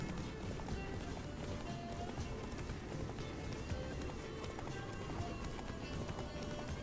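Horse galloping in The Witcher 3: Wild Hunt, a fast steady drum of hoofbeats running continuously at close range, blended with game ambience and a faint voice in the background.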